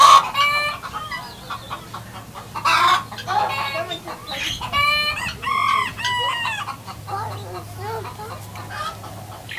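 Chickens at a petting zoo cluck in quick bursts close by, with a rooster-like call mixed in, while a person talks intermittently over a low steady hum.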